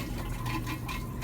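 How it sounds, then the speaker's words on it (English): An RV toilet after a new install running its first test flush, water rushing and filling the bowl in a steady close wash for the whole stretch, with no talk. "Let's do our first test flush."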